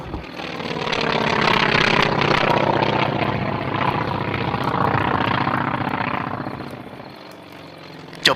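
Propeller engine drone of T-28 aircraft flying away in a Thai radio drama about an opium war, a loud sustained roar that swells and then gradually fades as the planes recede, with no talking.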